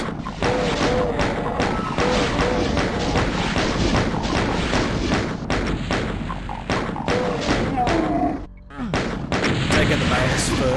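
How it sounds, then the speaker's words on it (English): Gunfire and exploding barrels in the Doom video game come as a dense, loud run of rapid shots and heavy thudding blasts, with a brief lull just before the end. "Shoot some barrels."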